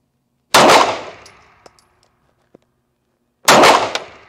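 Two loud, sharp gunshots from a Cosaint Arms COS11 handgun firing reloaded ammunition, about three seconds apart, each with a short decaying tail and faint clinks in between.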